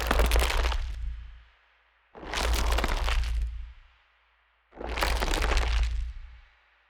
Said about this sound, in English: Here's the sound of mold appearing.